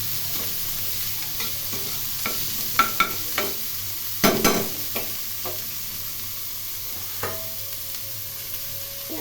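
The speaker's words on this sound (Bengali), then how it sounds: "এর মধ্যে কুচিয়ে রাখা চাল কুমড়োর খোসাগুলো দিয়ে দিলাম। এগুলো একটু নাড়াচাড়া করে নিয়ে" Chopped ash gourd peels stirred and fried in a pan, with a steady low sizzle and scattered scraping clatters of the spatula, one louder burst of stirring near the middle, no talk.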